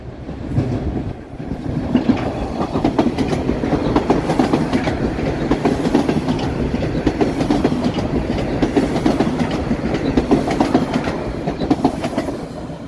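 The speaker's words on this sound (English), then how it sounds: "Let's see a train go by." A train rolls steadily past on a downtown Toronto street near Yonge St, a loud continuous rumble with rhythmic clickety-clack of wheels over rail joints that lasts throughout, with no voices.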